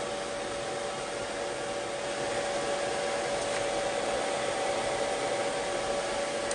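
A hair dryer drying finger-coiled curls blows in a steady, continuous whoosh with a constant motor whine, loud and close throughout with no talking.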